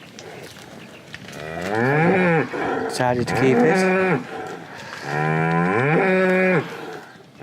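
Shorthorn cattle on a farm give several long, loud moos close by, each bellow rising and wavering, with short pauses between them and a few spoken words under the calls.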